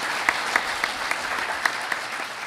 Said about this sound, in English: I think everybody owes him a round of applause